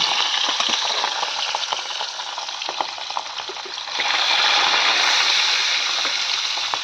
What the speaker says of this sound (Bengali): আর এই তো এবার মাছটা ভেজে নেবো